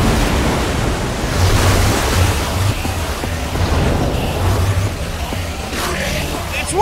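Water gushing from a machine in the Minecraft Story Mode video game, a loud continuous rushing wash that holds steady throughout with slight swells in level.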